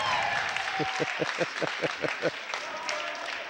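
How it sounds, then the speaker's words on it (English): A crowd at a men's college basketball game, Case Western Reserve against Emory, applauds and cheers loudly. Rhythmic clapping rises over steady crowd noise, and an announcer's voice is heard briefly. "It's probably the loudest we've heard the crowd in about an hour."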